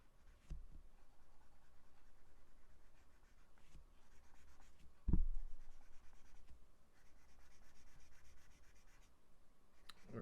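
A pencil shades and fills in a drawing on paper, with soft rhythmic scratching strokes, quiet and close, and one brief louder bump midway, with no talking.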